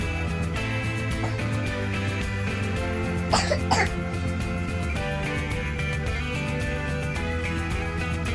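A sick child coughs twice in quick succession, close and fairly loud, over steady background music playing indoors at home.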